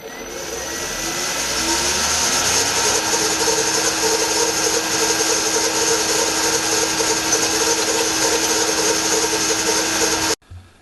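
A centre drill boring a hole in a small metal part, steady loud machine whine with a constant tone running for about ten seconds before cutting off abruptly.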